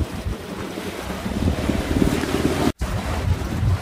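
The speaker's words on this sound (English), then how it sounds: "it's blowing all right, but the wind's in the wrong direction" Strong wind roars across the microphone while waves slap and wash around a small trailer-sailer beating to windward with a fully reefed main and one reef in the jib; the noise is loud, close and steady.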